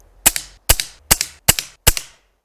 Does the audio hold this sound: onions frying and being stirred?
no